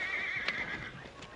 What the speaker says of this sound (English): Too much horse for you, Adam.